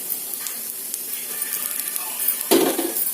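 Radish fry stirred in a pan over a stove gives a steady soft sizzle, with a louder scrape and clatter near the end.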